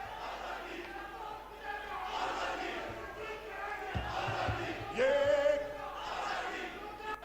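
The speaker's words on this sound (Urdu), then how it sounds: "ایوان میں تیرا باپ بھی دے گا آزادی کے نعرے" A crowd of politicians chants freedom slogans inside Pakistan's National Assembly, a dense roar of massed voices rising and falling in unison with sharp shouts breaking through, steady and loud throughout.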